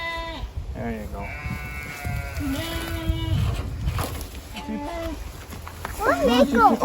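Sheep from a small front-yard flock bleat in a series of close, wavering calls, a denser burst near the end, with people talking over and between them.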